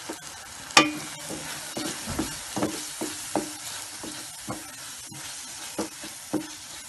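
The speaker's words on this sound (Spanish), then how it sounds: "Ya se está sofriendo con los condimentos." Meat sautés in a pan with ground annatto, pepper and seasonings while a spoon stirs it, giving a soft steady sizzle broken by a series of distinct scraping and tapping strokes about every half second.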